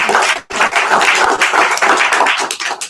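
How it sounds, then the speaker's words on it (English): An audience at a training seminar claps loudly and continuously, a dense round of applause with a brief dip near the start before it resumes and carries on steadily. "Give yourselves a big round of applause for being here."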